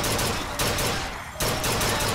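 Rapid, continuous gunfire at a shooting gallery in BioShock Infinite, loud and dense, with a brief dip midway before the shooting resumes at full intensity.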